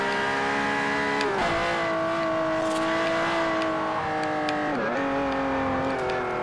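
Ferrari 599 engine in the Forza Horizon racing game, a steady high-pitched drone holding a single gear, with two brief dips in revs at shifts, loud and close with no talking.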